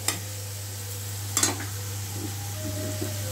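Vegetarian aloo dum is stirred in a pan, with a few scraping strokes and faint sizzling over a steady low hum, quiet and close, and no talking.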